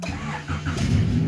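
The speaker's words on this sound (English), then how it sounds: "Car starts right up." Honda CRX engine cranking briefly and catching, then settling into a low, loud idle close by, all within about a second.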